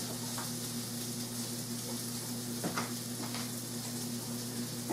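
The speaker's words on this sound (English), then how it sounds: "I got some sausage going here." Sausage sizzling in a frying pan, a steady hiss with faint crackles and a low hum underneath, fairly quiet and continuous with one soft clatter midway.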